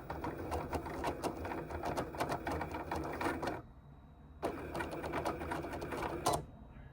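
Cricut machine cutting a printed sticker sheet: a close, rapid mechanical chattering and whirring of the blade carriage, broken by a brief quiet pause before the busy cutting resumes and then stops.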